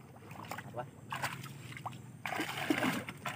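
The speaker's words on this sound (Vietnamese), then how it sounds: "anh hai mất đẩy cái xuồng đi nè cả nhà" A small boat is pushed through rain-swollen floodwater at night, with sloshing and splashing that swells near the end, under a voice talking.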